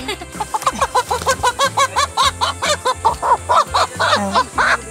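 A flock of chickens clucking continuously in a rapid, overlapping rhythm, close and fairly loud, with some deeper honking calls mixed in.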